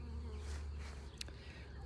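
Honeybee swarm buzzing in a Granny Smith apple tree, a steady dense hum of many bees close by, under a constant low background rumble, with one brief sharper buzz passing near.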